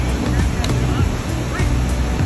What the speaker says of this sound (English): They're getting misted on from this giant waterfall.